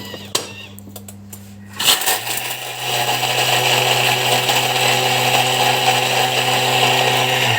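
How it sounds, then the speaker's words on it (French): Food processor pulsing speculoos biscuits at high speed 9, a loud, steady grinding roar that starts abruptly after a few clicks and runs on without a break. "on va venir mettre les spéculoos dans le bol et on va venir les mixer pendant 5 secondes, vitesse 9."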